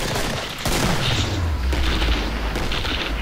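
A shotgun fires in the video game Killing Floor. Sharp gunshot blasts and booms come in quick succession over a dense, noisy in-game backdrop.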